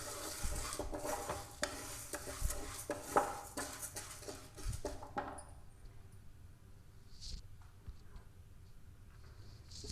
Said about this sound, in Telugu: మన కందిపప్పు కొంచెం దోరగా వేయించుకోవాలి